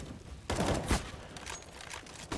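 Gunfire in Counter-Strike: Global Offensive during a StarLadder Major match, heard as a few sharp bursts of shots over a low background, including one louder crack near the middle.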